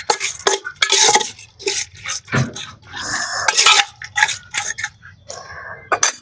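Beef bhuna khichuri cooked in a rustic village style, stirred and mixed in a metal pot with a spoon that scrapes and clanks loudly and irregularly, close by.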